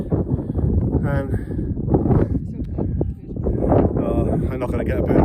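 Strong wind gusts roar across a hilltop microphone with windmills around, loud and continuous, while a person talks over it.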